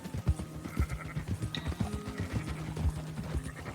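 Sheep bleating in the Red Dead Redemption 2 video game, a scattered flock calling in short repeated bleats over a busy background of hoof clatter and movement, no talking.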